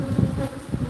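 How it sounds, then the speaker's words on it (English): Remnant bees gather in a dense, steady buzz, close and continuous throughout the short moment, with no voices. "remnant bees are gathering."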